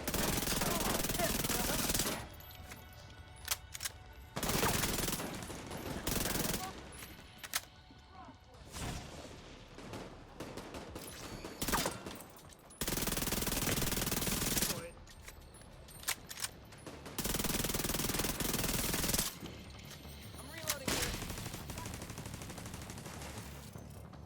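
Bursts of SMG fire in The Division 2, several loud rapid automatic volleys of varying length separated by short pauses, with some talk in between.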